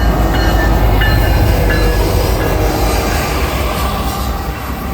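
A Norfolk Southern intermodal freight train rolls past close by, a loud, continuous rumble and rattle of wagons with faint wheel squeals, easing slightly toward the end.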